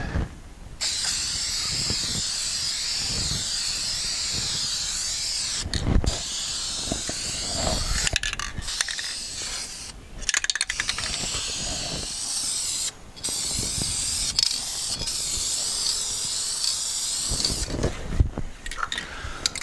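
A spray gun lays clear coat onto a 1962 Chevy C-10 truck wheel, a steady close hiss running nearly unbroken with several brief pauses as the trigger is released and pressed again.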